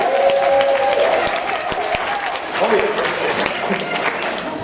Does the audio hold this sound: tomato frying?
no